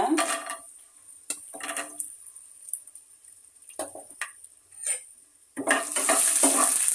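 Urad dal and peanuts hit hot oil with popping mustard seeds in a pan for poha chitranna, crackling and sizzling in bursts with spoon scrapes and stirring, building to a loud continuous fry at the end.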